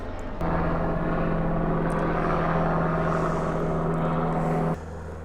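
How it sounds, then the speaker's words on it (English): A loud, steady droning propeller aircraft fills the air for a few seconds, then cuts away abruptly to quieter background noise. "as we wait for an airplane to pass by"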